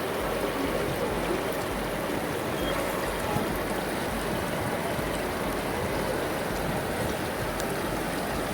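Flowing water of a mountain stream along the Srinagar to Kargil route in Ladakh, a loud, steady, broadband rush with no breaks, heard up close and alone.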